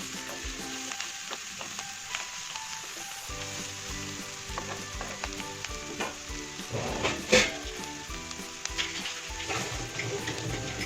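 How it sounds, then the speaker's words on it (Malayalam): Chopped taro leaves cook in a pan with a soft, continuous sizzle, joined by scraping stirs and occasional light clinks of a utensil against the pan. "ഒന്ന് ഇളക്കി കൊടുത്തിട്ട് അതൊന്ന് വേവാൻ അടച്ചു വെക്കുക."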